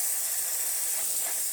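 The steam wand of a Rocket R58 espresso machine hisses steadily and loudly, a constant bright rush of steam with no break for the whole stretch.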